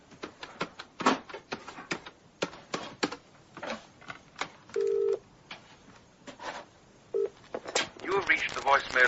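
Telephone keypad tones beep in a short series by a bedside phone in a BBC radio drama, a few quick dialing beeps with steady pauses, heard clearly among quieter movement sounds.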